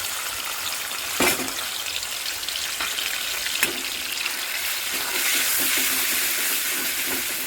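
Ginger, cumin and green chilli fry in hot oil in a wok while a quick singi fish curry is being cooked: a steady, close sizzle with scattered pops and stirring clicks, the hiss rising louder toward the end.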